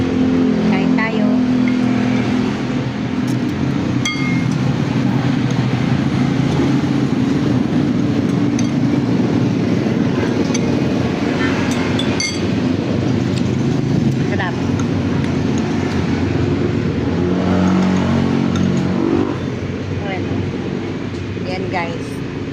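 Steady, loud roar of highway traffic beside a roadside lomi stall in Batangas, with engines rumbling and vehicles passing continuously, and voices talking over the din.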